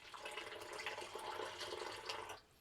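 Fruit drink pours into a cocktail glass in a steady liquid splash and gurgle lasting about two seconds, close by, then stops abruptly.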